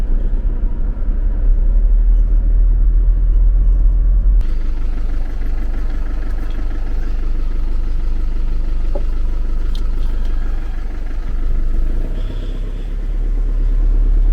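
Low, loud engine rumble from a 25-year-old Bürstner motorhome pulling away, a steady droning hum heard from inside the vehicle throughout, with a slight shift in tone partway.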